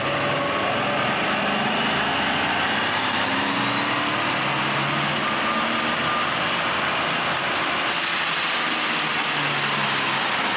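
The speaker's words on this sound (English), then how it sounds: "God, it's so quiet, and then that blow-off is amazing." A supercharged Chevrolet Silverado pickup runs quietly with a steady, fairly loud broadband rush, and a sharper airy hiss from the blow-off valve brightens the sound near the end.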